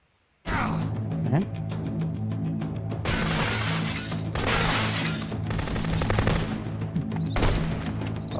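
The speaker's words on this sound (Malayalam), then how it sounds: "അവന്മാരിപ്പോൾ നമ്മൾ വെടിവെച്ച് കൊല്ലും" Rapid bursts of gunfire in the video game Contraband Police crackle loudly in repeated volleys with short gaps, over a steady low droning hum.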